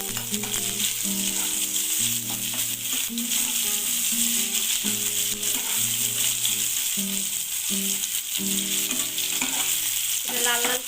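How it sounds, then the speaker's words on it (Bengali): Sliced onions fry in three tablespoons of hot mustard oil for biryani, a continuous close sizzle with occasional stirring scrapes, no voices present. "করার জন্য আমি 3 টেবিল চামচ তেল দিয়েছি, সরিষার তেল। এর মধ্যে আমি পেঁয়াজগুলো দেবো,"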